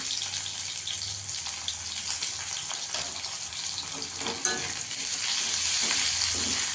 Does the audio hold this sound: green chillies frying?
yes